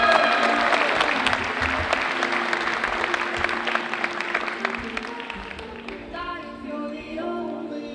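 An audience applauds 2025 Carthage Mahone Foundation Access Award recipients at the Reaching for Rainbows event, dense clapping that tapers off over the final seconds while a voice begins speaking.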